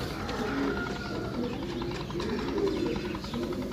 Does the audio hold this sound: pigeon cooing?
yes